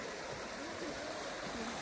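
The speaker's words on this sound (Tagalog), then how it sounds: "Ang ganda ng sapa." Cold creek flowing near Zion, a steady close rush and babble of running water, continuous and fairly loud, with no clear voices over it.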